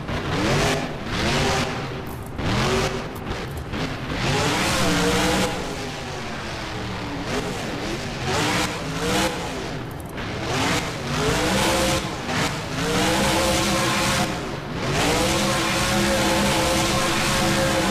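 A monster truck engine in BeamNG roars and revs repeatedly during a freestyle event as the truck spins a donut, loud rising and falling engine pitch sweeps repeating steadily throughout.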